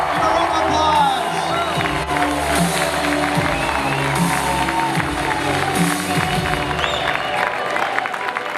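A fan convention crowd at a Kate Beckinsale panel applauds and cheers, a constant roar of clapping and shouting voices that stays loud throughout.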